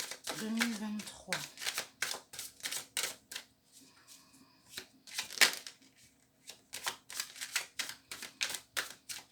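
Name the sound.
tarot cards being shuffled and drawn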